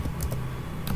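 A few quick, crisp keystrokes on a computer keyboard while configuring port security on a network switch, close and clear with a short gap between the taps.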